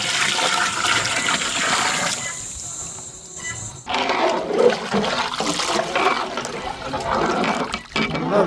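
Water gushes into a cooking pot as vegetable pulao is prepared, a loud continuous pour with a brief break partway through before the flow resumes.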